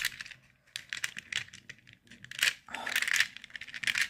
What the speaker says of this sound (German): Hier würfle ich, glaube ich, mit... 2 Würfeln